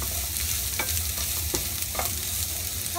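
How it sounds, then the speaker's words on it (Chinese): Cured pork and onion stir-frying in a wok, a steady loud sizzle with repeated scraping stirs of the spatula cutting through, close up and with no talking. "加埋洋葱落去，将佢炒香啦"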